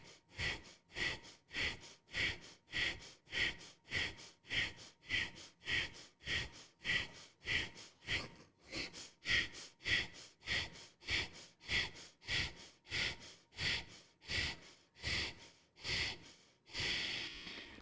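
Slow, deep meditative breathing: a long series of about twenty full inhales and exhales in a steady, even rhythm, close and soft, with no talk.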